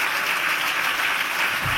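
Audience applauding at an award ceremony, a steady dense wash of many hands clapping, loud and continuous throughout.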